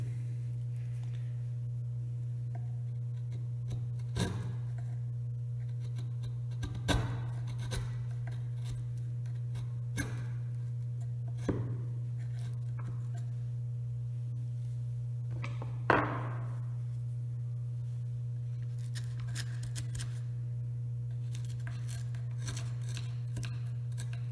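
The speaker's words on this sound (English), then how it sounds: "That's the sound of a sharp chisel." Quiet, sharp slicing and scraping strokes of a chisel cutting wood, spaced a few seconds apart over a constant low hum.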